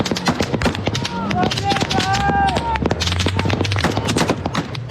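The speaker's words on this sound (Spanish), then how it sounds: "Los barcos que lograron irse son atacados con cohetes y granadas." Rapid bursts of rocket and grenade fire crackle continuously in Kherson, Ukraine, as boats are attacked, with shouting voices mixed in amid the chaotic combat.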